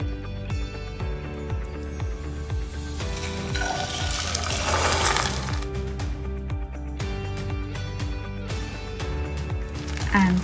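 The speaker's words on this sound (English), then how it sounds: "fry the veggie omelette on medium heat" Oil sizzles and crackles in a pan as a veggie omelette mixture fries on medium heat, a steady bubbling hiss beneath background music.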